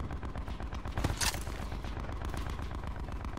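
Gunfire from a firefight in the online shooter Call of Duty: Black Ops 4: a short, dense burst of shots rises out of a steady, rumbling game backdrop, then the firing fades back into the ambient noise.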